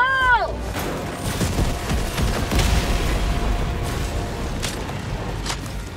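Grenade blast in the Helldivers 2 fight against Terminids, a broad rumbling boom amid continuous battle noise and scattered impacts, with a voice speaking briefly at the start.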